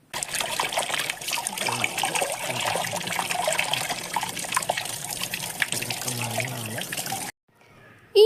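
Sweet potatoes are rinsed under a running kitchen tap, a steady close stream of water splashing and trickling over them for about seven seconds before cutting off abruptly.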